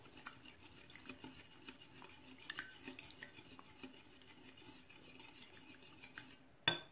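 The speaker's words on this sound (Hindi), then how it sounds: "इसको विस्क के साथ मैं अच्छी तरह मिक्स कर लूँगी" A whisk stirs milk into a cream chaat mixture in a bowl, giving quiet rhythmic scraping and light clinks that repeat throughout, close but faint, ending in one sharp knock.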